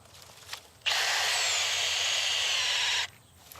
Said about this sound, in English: So we're drilling a hole at 45 degrees and filling it with chemical.